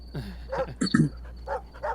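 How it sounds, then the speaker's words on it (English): A dog in a Global Game Jam video game gives a few short close whimpers and yips as it is petted, a quick cluster of bright little calls with brief gaps between them. "I want to pet the dog."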